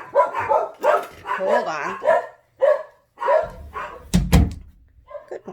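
Several dogs bark in short bursts mixed in with a woman's speech in an office setting, with a dull thump or door knock near the end.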